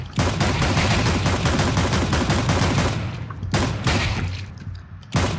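Loud rapid gunfire in a competitive shooter video game, long unbroken bursts followed by a short pause and then further volleys.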